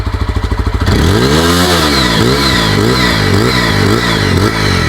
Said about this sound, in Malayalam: ഒരു കിളുക്കും ഒരു ശബ്ദവും ബട്ടറി സ്മൂത്ത് എഞ്ചിൻ കേട്ടോ